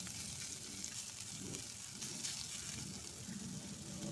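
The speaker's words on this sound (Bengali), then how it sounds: "এদিকে যে দেখো বিট ভাজি এখনো হচ্ছে কড়াইয়ের উপর" Beetroot frying in a kadai, a soft, steady sizzle and hiss that runs unbroken at low volume for a few seconds.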